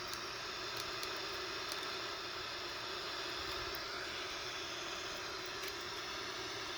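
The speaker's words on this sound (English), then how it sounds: "So we take off using maximum thrust" A Boeing 787's engines roar at maximum takeoff thrust, a loud, steady, broadband rumble and hiss heard from inside the aircraft, continuous throughout with no voices.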